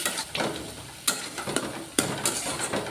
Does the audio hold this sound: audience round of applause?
no